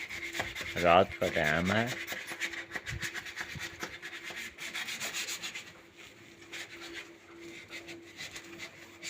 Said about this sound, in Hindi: ये चिन्योटी पॉलिश हो रही है।